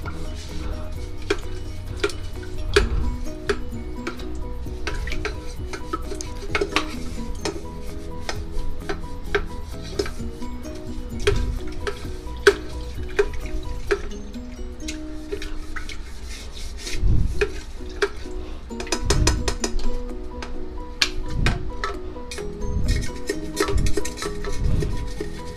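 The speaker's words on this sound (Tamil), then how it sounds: "பாட்டில் க்ளீன் பண்ணுற ப்ரெஷ் வச்சு தான் நான் வந்து யூஸ்வலாக கெட்டில் க்ளீன் பண்ணுவேன்" A bottle brush scrubs the inside of an electric kettle with continuous rough, rasping strokes and occasional hollow metallic knocks, heard close up for a long stretch with no talking.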